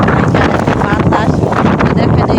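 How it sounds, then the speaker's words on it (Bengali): Strong, gusty cyclone wind roars and buffets the microphone continuously, a loud rushing noise throughout. "অনেক তুফান অনেক বাতাস অনেক ঝড় ঝড় তুফান"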